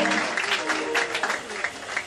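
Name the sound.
congregation applauding in church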